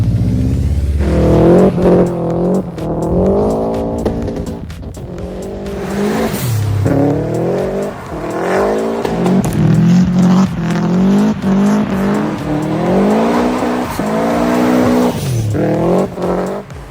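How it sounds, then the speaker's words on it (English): A Subaru STI rally car drifts with its engine revving hard in repeated rising and falling surges, punctuated by tire squeal and skidding, loud and close throughout. "Pulling off drift angles that extreme without heavy steering input showcases absolute mastery of throttle control."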